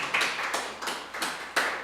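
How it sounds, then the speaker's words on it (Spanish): A church congregation claps in a brief burst of several sharp, uneven claps during a Spanish-language worship service, moderately close and without talk over it. "Denle un fuerte aplauso al Dios vivo"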